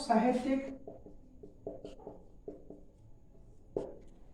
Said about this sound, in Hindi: यहां लिख देता हूं